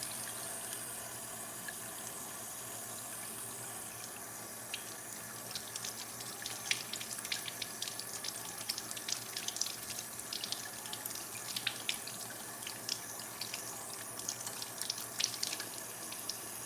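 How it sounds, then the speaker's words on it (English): Tap water runs into a kitchen sink while blueberries are rinsed, a steady close hiss with uneven splashes and spatter as the water hits the fruit, with no talking. "So I'm gonna wash the blueberries now"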